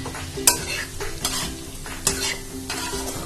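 Fried potato and eggplant being stirred into cooked masala for a Bengali hilsa curry: a few clanking spoon scrapes against the pan over a low, steady sizzle, close and moderately loud, with no talking.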